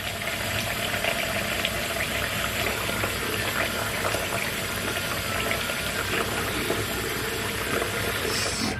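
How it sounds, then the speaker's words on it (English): Hot water being poured into a container to soak a synthetic wig, a continuous splashing, bubbling gush of filling liquid that runs steadily and close for most of the stretch before cutting off at the end. "So I'm gonna add some more hot water to it."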